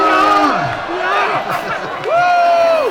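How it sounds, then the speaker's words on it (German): A concert audience cheers with loud, rising and falling whoops and shouts, briefly dipping before a final surge of cheering. "Ein Applaus für beide."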